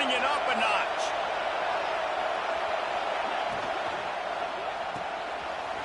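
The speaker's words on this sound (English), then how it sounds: "this crowd is turning it up a notch" Dense, continuous roar from a college football stadium crowd during a South Carolina Gamecocks game, swelling steadily with a play-by-play voice over it.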